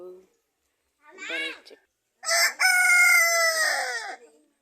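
A young rooster crows in a garden, with a short clucking call first, then a long, loud, strained crow that ends abruptly; quiet between calls and no talk over it.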